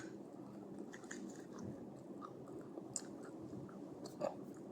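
Someone chews food close to the mic in steady, soft, wet bites with an occasional small crunch, quiet under faint background noise and with no talking.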